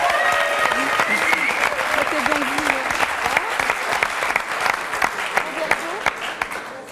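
A television studio audience applauds a karaoke champion with steady, dense clapping that carries on for several seconds, with voices talking over it.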